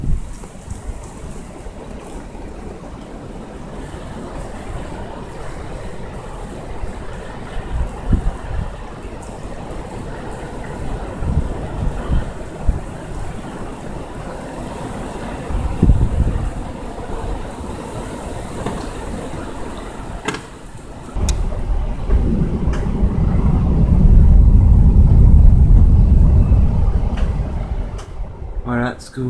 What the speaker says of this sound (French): ce que vous venez d'entendre, c'est un grondement.